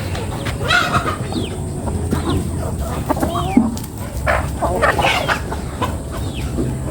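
Chickens clucking and squawking around a farmyard, with a rooster's short calls mixed in over steady outdoor background noise.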